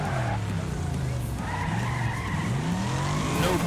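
A car braking hard in the Wreckfest racing game, tires squealing and skidding in a long continuous screech over a steady engine drone, loud and close.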